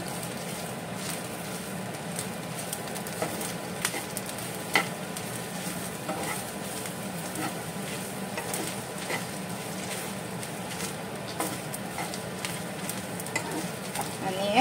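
Turmeric is stirred into mutton masala frying in a pan, giving a steady close sizzle broken by frequent light scraping and clicking strokes of a spoon, with no talking.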